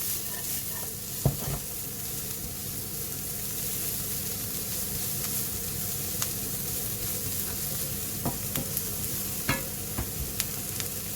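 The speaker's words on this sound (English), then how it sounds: "In here, I'm just gonna add some diced red onions." Diced red onions sizzle steadily in a frying pan for a Gobi manchurian, with occasional sharp clicks and scrapes of stirring standing out over the continuous frying hiss.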